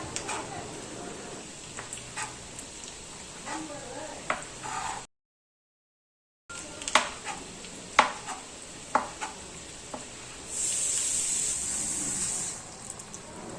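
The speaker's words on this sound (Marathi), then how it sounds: "आता इथे मी आळूवड्या कापून घेते" Several sharp knife cuts slice through steamed colocasia leaf rolls on a board amid kitchen clatter and a soft hiss, with a brief drop to silence partway through.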